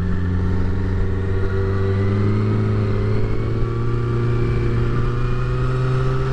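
A 2009 Kawasaki ZX-6R sport bike drones at a steady, loud engine tone while being ridden, a constant hum with no talking over it.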